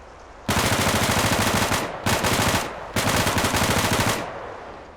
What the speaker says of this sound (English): this is the sound you'll hear from the Ranger M4 on full auto.